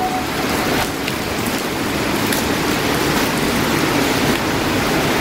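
Heavy rain and wind lashing an abandoned, fire-damaged house with no roof in Taiwan, a loud, dense, unbroken roar of downpour without any talk.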